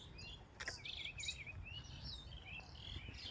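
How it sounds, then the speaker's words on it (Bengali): Birds over rice fields near a village by the Indian border chirp and trill in short, wavering calls, faint and somewhat distant, with a low rural background murmur and insects beneath. "এখানে শুধুই পাখির ডাক শোনা যাচ্ছে,"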